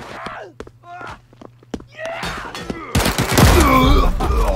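Video game gunfire from Paint the Town Red crackles in sharp repeated bursts among scuffling impacts, swelling into a dense, loud fusillade with shouting voices.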